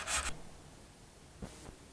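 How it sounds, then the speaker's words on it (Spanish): Coarse 100-grit sandpaper rubbed over a model ship hull, giving a short raspy scrape followed by a fainter second stroke, close and quiet, with no talking. "Pues vamos lijando."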